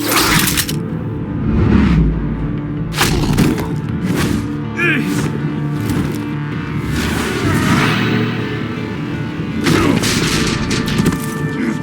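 Gunfire in the Batman: The Enemy Within video game, a steady loud barrage of sharp shots and thuds repeating across the whole stretch, with a voice speaking briefly in the middle.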